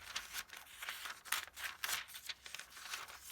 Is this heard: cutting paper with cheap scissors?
yes